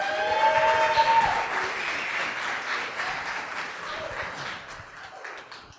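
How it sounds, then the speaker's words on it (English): A conference audience at a security event applauds a speaker as he is introduced, with dense, sustained clapping that is loud at first and slowly thins, while a few voices murmur underneath. "Give him a round of applause."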